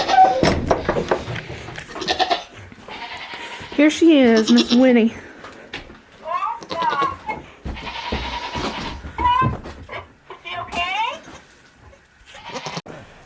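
Baby goat bleating repeatedly in short wavering cries, close and loud, mixed with a person talking between and over the calls.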